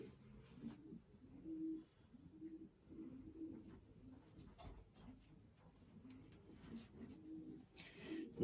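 A racing pigeon coos in soft, low, repeated throaty rolls, fairly close and quiet, with a steady rhythm over several seconds and faint background noise.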